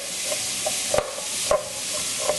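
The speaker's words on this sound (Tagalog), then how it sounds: "Itutuloy lang natin yung paggisa dito hanggang sa tuluyan na lumambot. Yung sibuyas, pati na rin yung celery." Onion and celery sautéing in a pan for Filipino chicken noodle soup: a steady soft sizzle with a few louder stirring scrapes and clinks at irregular intervals, close by, with no talk.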